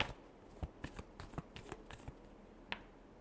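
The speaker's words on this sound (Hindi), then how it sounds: "last shuffle" Tarot cards being shuffled, a faint close series of soft irregular riffles and taps with one sharper snap near the end, no talk.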